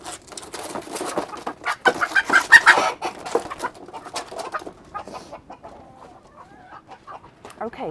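Close silkie hen clucking in quick, busy bursts, louder early on, then softer murmuring clucks trailing off as the birds settle.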